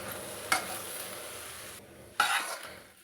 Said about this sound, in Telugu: ఇట్లనే మధ్యలో కలుపుతూ ఉడికించుకుందాం